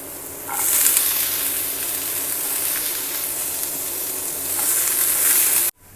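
Onion fries in oil with garlic and ginger in a pan for veg momo filling, producing a continuous loud hissing sizzle that swells and eases with stirring before cutting off abruptly at the end.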